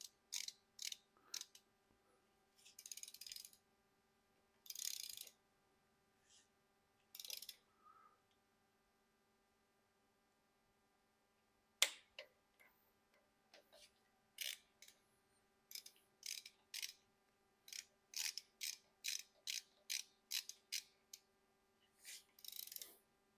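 A ratchet tightens bolts on a 6.0 Powerstroke engine during a lifter and branch tube installation, with quiet bursts of rapid clicking separated by pauses and a faint steady hum behind.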